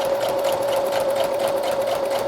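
A sewing machine runs steadily, stitching stretchy fabric onto a soft cover journal, with a continuous close-up motor whir and rapid needle rhythm and no talking.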